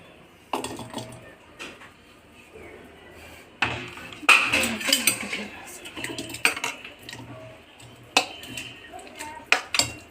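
Metal spoon scrapes and clanks against a pan and bowl in irregular bursts as chole masala curry is scooped out of the pan into a serving bowl, over a quiet kitchen background.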